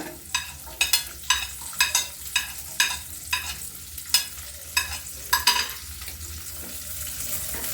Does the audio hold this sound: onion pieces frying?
yes